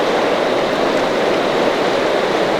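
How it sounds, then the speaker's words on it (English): A loud creek rushes close by at Sullivan Creek, a dense, steady wash of flowing water with no pauses and no voices over it. "I have to talk louder because I'm next to the creek."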